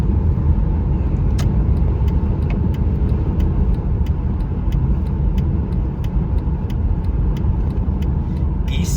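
Steady low road rumble from a car driving down a dirt road, with a constant engine drone and occasional faint ticks and clicks over it.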